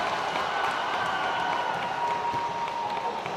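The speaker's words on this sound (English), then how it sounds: "The student section is loud, so a lot of energy from them." A home crowd at a girls' prep basketball game between Siegel and Riverdale, with a loud student section, keeps up a continuous roar of cheering and scattered clapping throughout, filling the gym at steady volume.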